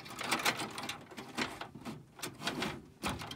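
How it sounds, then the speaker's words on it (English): Plastic and metal clicks, scrapes and knocks as a hard drive is pulled out of a screwless toolless mount inside a PC case, several close handling sounds in an uneven rhythm. "From there, the hard drive can be removed."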